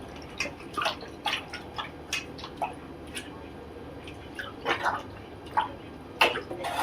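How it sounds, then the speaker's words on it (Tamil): Meat being washed by hand with turmeric and water, giving soft irregular splashes, drips and squelches close by over a quiet background. "இதுமாரி மஞ்சாத்தூள் தடவி வாஷ் பண்ணிக்கணும்."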